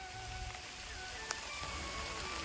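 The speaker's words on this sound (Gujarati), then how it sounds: "ધીમે ધીમે વરસાદ પડી રહ્યો છે અત્યારે" Soft, steady patter of light rain in the Gir forest, quiet and even, with a few faint chirps in the background.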